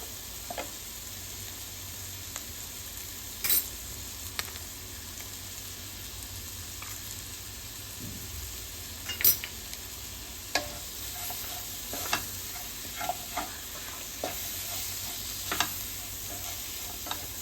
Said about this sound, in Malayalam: ഇനി മസാല മൂക്കണ വരെ ഇളക്കുക